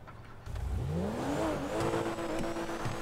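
A Tofaş car engine revving in GTA 5, rising steadily in pitch as it accelerates hard and then holding a high, loud whine, with no talk over it.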